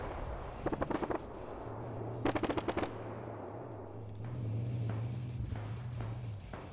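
In a military video game battle, two short bursts of rapid automatic gunfire crack out, separated by a pause. A low, droning engine hum continues beneath and after the shots.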